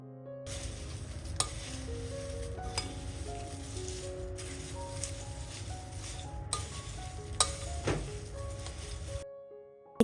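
Peanuts stir-fried in a pan crackle and sizzle continuously, with sharp scrapes and clinks of the spoon against the metal and a faint hum underneath, ending abruptly.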